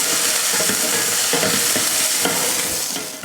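Small shallots, garlic and ginger pieces sautéing in hot oil for a Tamil mutton kulambu, giving a steady close sizzle with repeated scraping stir strokes and no voices.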